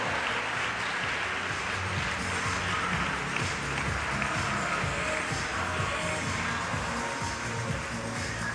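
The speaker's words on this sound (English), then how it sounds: "But a round of applause, please, for Global Score." A crowd applauding at the F1 in Schools World Finals 2017 awards ceremony, a steady, even wash of clapping that carries on without a break.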